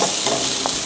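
Shrimp sizzle and hiss in a hot pan while being stir-fried, a short, steady burst of frying noise close by.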